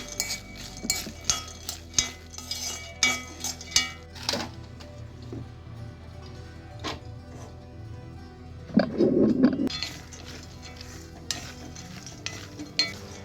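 Peanuts are stirred in a pan with salt and a little water, making close scraping and clinking strokes of a spoon against the pan, with a brief louder clatter partway through.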